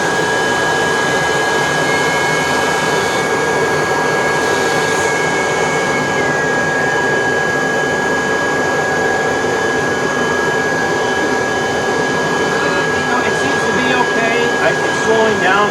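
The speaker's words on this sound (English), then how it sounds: "So I just wonder how well will a G6 turbo tool do with this much older machine that's pushing less flow and a little bit less suction." An older Kirby vacuum cleaner drives a G6 hand turbo tool, giving a loud, steady motor drone with a high whine that holds throughout, its pitch shifting slightly near the end as the brush slows under load.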